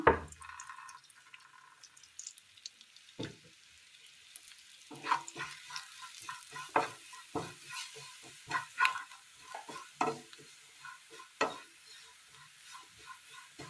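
Masala mixed with meat masala and onions sizzles in coconut oil as a spoon stirs it, a steady frying hiss broken by repeated close scrapes and clinks against the pan.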